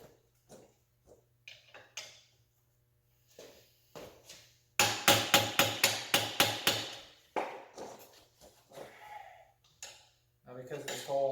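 Hammer striking a screwdriver used as a punch while stripping down a 1987 Suzuki LT250R quad, a quick run of about ten sharp metallic blows in a row, with scattered clinks and shop handling before and after.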